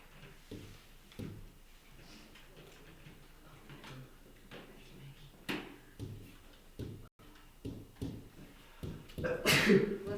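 A single sharp sneeze bursts out loudly near the end, after a stretch of muffled talking, soft knocks and shuffling in an indoor room.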